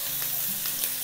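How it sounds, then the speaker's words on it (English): Young beets sear in a smoking hot cast iron pan, giving a steady, close, loud hiss without pause. "Now this is smoking hot, so I'm gonna sear this in here."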